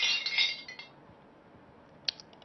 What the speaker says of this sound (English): Some glasses clinking?